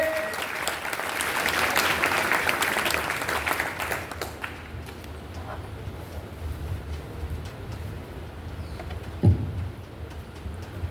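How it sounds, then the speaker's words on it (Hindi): Audience at a talk on rural and cultural innovation applauding, full and loud for about four seconds, then thinning into scattered claps and room noise with a short low bump near the end. "इनके लिए जोरदार तालियां बजाओ भाई, और जोर से"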